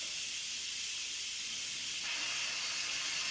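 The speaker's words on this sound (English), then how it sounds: "So you just turn the steam valve and let it all release." Steady, loud hiss of steam escaping an Instant Pot pressure release valve, continuous throughout, growing slightly brighter partway through, with no voices.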